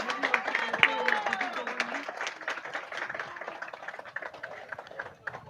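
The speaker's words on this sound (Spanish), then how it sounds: "El aplauso por parte de toda la hinchada." Football supporters in a stadium applaud as the Deportivo Paraguayo players walk onto the pitch, a broad distant wash of clapping and crowd noise that slowly fades, with a commentator talking over it.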